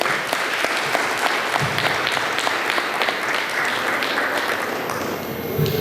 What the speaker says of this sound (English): I ask you to give them a thunderous applause